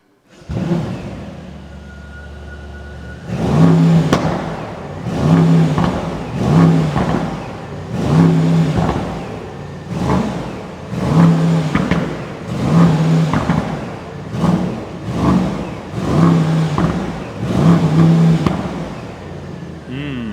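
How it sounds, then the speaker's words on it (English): A 2024 Mercedes S-Class Brabus 930 with a twin-turbo V8 and Brabus exhaust idles, then blips its throttle in a steady series of loud, deep revs, about a dozen bursts spaced roughly a second apart, heard up close from outside. "powerful and nice sounding V8 bi-turbo engine here as a base, and we have the Brabus exhaust mounted, so it's way louder than the stock one"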